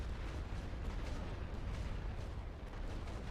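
Continuous, dense rumbling booms from an artillery barrage in a strategy video game, a loud unbroken wall of low explosions throughout with no clear gaps and no talking.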